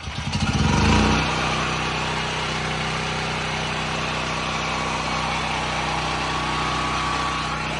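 A portable generator's small engine catches after starting and settles into a steady, loud, close running drone with a buzzy hum that holds evenly throughout.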